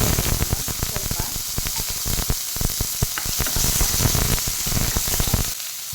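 Beans fry in a pan for Udupi-style carrot pulao, a loud, close crackling sizzle with dense popping bursts that runs continuously and eases off near the end.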